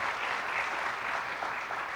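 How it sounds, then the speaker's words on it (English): Audience at an alumni association awards ceremony applauding the award winners, a dense steady wash of clapping hands throughout, fairly close and without talk. "Let's have one more round of applause for our award winners, please."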